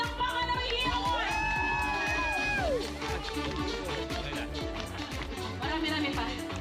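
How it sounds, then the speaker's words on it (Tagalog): Wedding guests cheer and shout loudly in a lively crowd, whoops and yells overlapping with music and voices throughout. "bigyan ng palakpakan na may hiyawan!"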